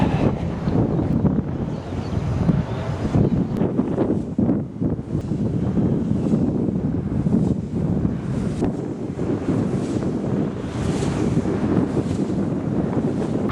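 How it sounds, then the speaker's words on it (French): Gusting wind buffets an outdoor microphone in a steady, loud, broadband rumble that swells and dips for the whole stretch, with no voices over it. "le vent"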